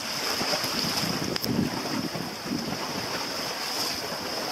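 Steady wind roars and buffets the microphone aboard a sailboat off the Everglades coast. It is loud and continuous, with faint water wash underneath and no voices.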